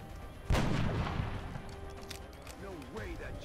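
A single loud gunshot from a turn-based strategy game, XCOM: Long War, cracks out sharply and decays, followed by game effect tones while someone talks over it.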